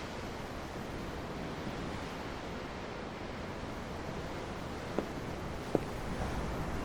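Ocean waves in Tales of Arise, a steady, soft wash of surf heard from aboard a ship, continuous and fairly faint, with two brief, sharp ticks near the end.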